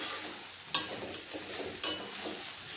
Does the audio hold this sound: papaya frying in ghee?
yes